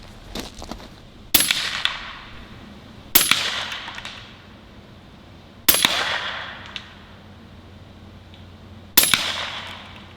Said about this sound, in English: these powder-filled exploding golf balls